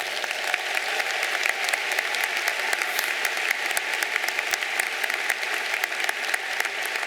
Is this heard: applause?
yes